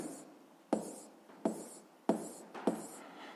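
A pen writes a physics solution in four short, sharp bursts of scratching, each fading quickly, close and clear with no talk.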